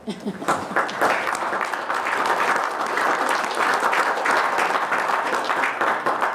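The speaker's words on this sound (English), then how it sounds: "we just give you applause for being here" Audience applause for a youth council at a tribal council meeting, with steady, full clapping throughout and some voices mixed into the crowd noise.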